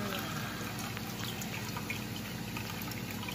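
Brewed tea is poured into a Puerto Rican coquito mixture, a steady trickle of liquid heard close over a constant background hum and hiss.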